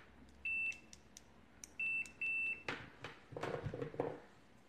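A cheap Sanwa CD732 multimeter gives three short, sharp continuity beeps, the last two in quick succession, followed by faint handling clicks and rustles close by.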